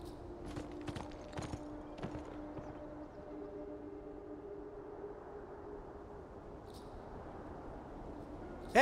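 A horse's hooves clip-clop in a rhythmic run of knocks over a steady low droning hum, inside the video game Beyond: Two Souls, growing sparser as the hum carries on, with a sharp burst at the very end.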